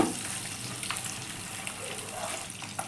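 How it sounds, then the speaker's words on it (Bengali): An egg fries in oil as it is stirred and turned, a soft, steady sizzle heard up close with a few faint clicks and scrapes. "ডিমটা আমি 1 মিনিট একটু নাড়াচাড়া করে ভেজে নিই"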